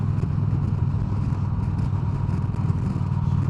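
A 2015 Harley-Davidson Street Glide Special touring motorcycle with a Twin Cam engine being ridden, giving a steady, loud, low engine rumble mixed with wind and road noise throughout, with no one speaking.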